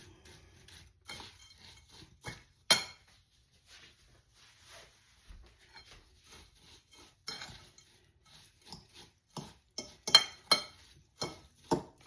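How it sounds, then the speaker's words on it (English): Cracker crumbs and melted butter are stirred together in a bowl for a summer squash casserole, a utensil scraping and clinking against the bowl in irregular, close taps that grow sharper toward the end. "just mix that all up till all the cracker crumbs are moist"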